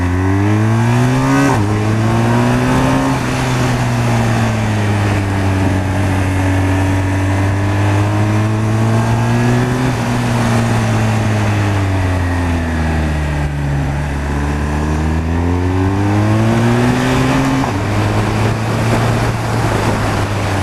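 A motorcycle rides through winding bends on a rough, uneven road surface, its engine droning steadily with pitch rising and falling as it accelerates out of each curve; continuous and close, with no talking.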